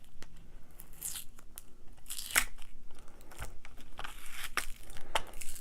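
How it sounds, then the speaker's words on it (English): Packing tape is torn and peeled off a bullion shipping box in a series of sharp rips and crackles, close and fairly quiet, with rustling between the pulls. "let's open this up, see if I can get this tape off of here"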